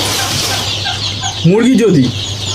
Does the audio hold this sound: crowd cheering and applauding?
no